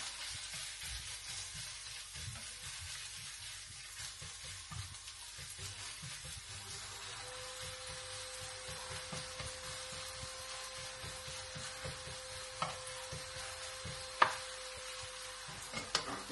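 Oil frying in a pan for a lunch dish, a soft steady sizzle with a few small clinks of utensils near the end, heard alone without talk.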